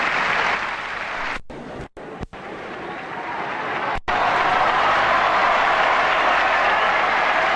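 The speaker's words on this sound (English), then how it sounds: "Listen to this crowd. They're enjoying this final." The crowd at the 1979 Wimbledon men's final between Borg and Tanner applauds, a loud, dense, continuous roar of clapping that briefly breaks off and then surges again.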